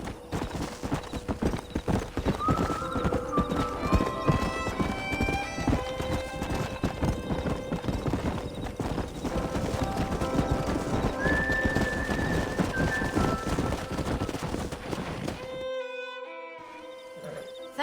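Horses whinny and neigh over steady hoof clip-clops in the Red Dead Redemption video game, continuous and fairly loud for most of the stretch, with music or game ambience underneath before fading near the end.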